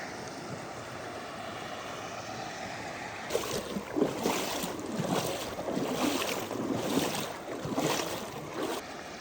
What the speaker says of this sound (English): Here's our last little crossing at Steele Creek